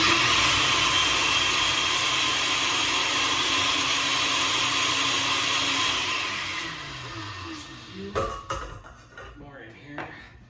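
A blender grinds Szechuan peppercorns with a loud, steady whir that runs for about six seconds, then winds down as the motor slows, followed by scattered clinks and knocks of the jar and utensils.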